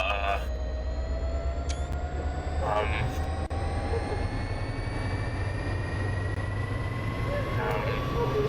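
A diesel locomotive idles in Train Sim World as a steady, loud, continuous rumble with a rising whine, alone without talk.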